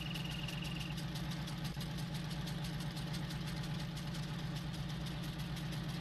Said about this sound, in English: So now we got two tractors over here sickle swathing.